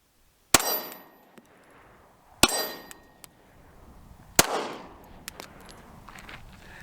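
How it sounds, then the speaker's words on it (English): Three sharp gunshots from a Glock 19 pistol, each followed by a metallic clang of rounds striking a steel target, spaced about two seconds apart, with a few fainter ringing taps between. "Let's go ahead and put a couple rounds with the Glock 19."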